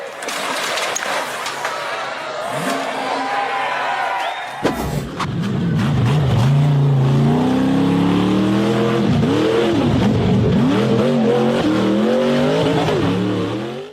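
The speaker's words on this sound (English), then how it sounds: "The red and black buggy blasted up the steep hill at full speed." A red and black off-road buggy climbs a steep hill at full speed: a roaring, high-revving engine rises and falls through throttle bursts, loud and sustained, with crowd noise faintly beneath it.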